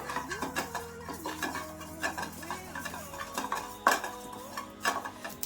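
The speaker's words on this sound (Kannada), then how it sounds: "ನೋಡಿ ಈ ತರ ಉರಿತಾ ಉರಿತಾ ಚಿಟ ಚಿಟ ಅಂತ ಇರುತ್ತೆ" Cumin seeds dry roasting in a pan give off scattered soft crackles and pops, mixed with intermittent scraping and clinking of a spoon stirring against the metal, close and fairly quiet.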